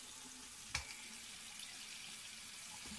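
Tap water runs in a steady, quiet hiss while zucchinis are washed in a kitchen, with a couple of small knocks and no voices.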